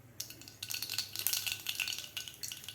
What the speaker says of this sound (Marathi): मोहरी आपली व्यवस्थित तडतडलेली आहे